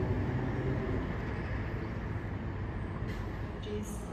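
Class 318 and 320 electric trains pull into Motherwell station, a loud continuous rumble and rail roar close by, with a brief air hiss near the end.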